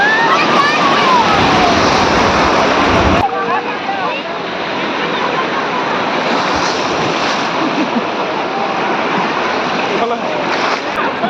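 Ocean surf washes steadily onto Digha Beach, a continuous broad roar with people talking and shouting over it throughout.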